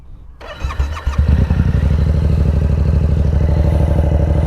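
A Yamaha R7 motorcycle starting: a brief starter whir, the engine catching with a clattering burst, then settling into a steady, loud, throbbing idle close by.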